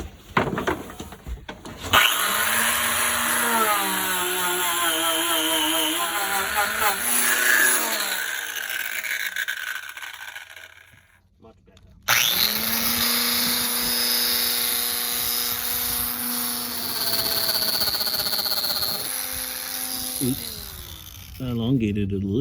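A power tool fitted with a Scotch-Brite-type abrasive pad scrubs paint off a boat's hull, a steady whirring grind that runs, drops away briefly near the middle, then resumes loudly to the end.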